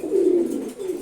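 A male Chila pigeon coos close by, one longer coo followed by a shorter one, clear against a quiet background.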